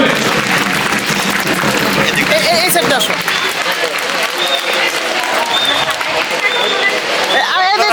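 A crowd claps continuously and loudly to welcome a school's founding director at an annual sports competition, with a voice talking over the applause and faint whistles and chatter mixed in.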